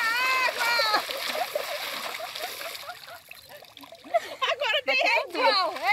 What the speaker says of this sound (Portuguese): É jogar água mesmo. Joga água, gente! Joga água!